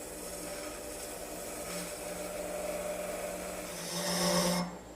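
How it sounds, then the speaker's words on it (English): A skew chisel cutting a small bead detail on wood spinning on a lathe, a continuous scraping, rubbing cut that swells near the end before stopping. "Here I've returned to my skew chisel to work on this little bead detail."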